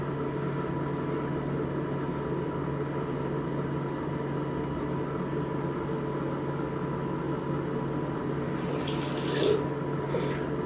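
Safety razor blades rinsed under a running tap, heard as a steady, moderately close stream of water with a constant hiss and hum throughout and no talking.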